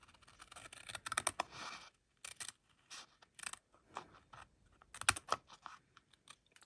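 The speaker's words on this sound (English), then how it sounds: "All I need to do is flip this over, and we're going to cut this." Scissors snipping through paper scraps for a craft project, a run of quiet close crisp cuts with short pauses between clusters of snips.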